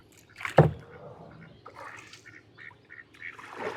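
Four rooftop ducks quack; one loud, close quack comes early, followed by softer, scattered calls and rustling.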